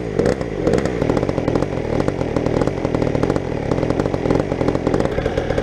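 A pocket bike fitted with a big bore kit engine starts and runs, producing a loud, close, buzzing two-stroke-style rattle at steady high revs with a dense rhythmic chatter throughout.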